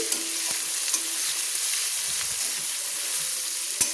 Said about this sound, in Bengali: আমি যে দেখুন তিন চারটে পেঁয়াজ আমি কুচিয়ে রেখেছিলাম সেটা আমি দিয়ে দিলাম দিয়ে কিন্তু আমি লাল লাল করে ভেজে নিচ্ছি